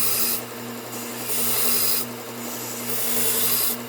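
A recurve knife blade drawn repeatedly across a sharpener, giving rhythmic raspy strokes about every second over a faint steady hum, close and without talk.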